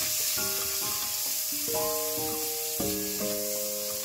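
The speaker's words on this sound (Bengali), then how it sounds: "এর ভেতরে সামান্য লবণ দিচ্ছি, একটু হলুদ দিচ্ছি, দিয়ে চিংড়িটাকে আমি ভেজে নেব।" Shrimp fry in a pan with salt and turmeric, giving a steady hiss and sizzle throughout, while louder tonal clanks and scraping, likely utensils against the pan, come and go over it.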